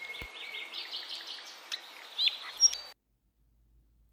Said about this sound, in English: Nightingales are known for their beautiful and complex songs